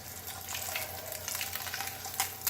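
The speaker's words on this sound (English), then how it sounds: "Throw that one around in butter." Eggs frying in butter in a pan on a home stove, a steady close sizzle with soft crackles and pops rising throughout, no voices.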